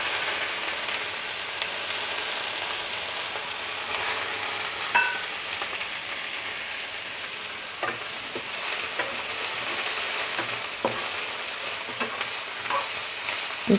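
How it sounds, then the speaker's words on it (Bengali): Onions frying in leftover oil in a pan after bele fish was fried, a steady broadband sizzle running throughout with occasional stirring clicks and scrapes, close and continuous. "পেঁয়াজগুলোকে ভেজে নিচ্ছি।"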